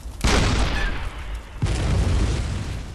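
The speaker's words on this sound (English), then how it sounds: "You can actually fire the cannon. Sometimes you break it and it just keeps firing rapidly." A cannon fires in the video game Bloodborne, two heavy booming blasts about a second and a half apart, each loud and close with a long rumbling tail.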